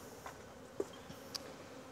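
Honeybees buzz faintly and steadily around frames of honey being harvested from a hive, a low, soft hum with a few brief clicks.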